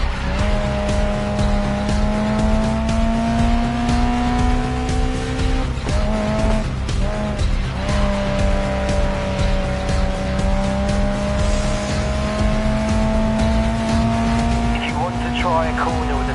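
A race car roars steadily in the Grid Legends racing game, its engine note rising and holding loud and close, with tires squealing through slides and a voice speaking over it.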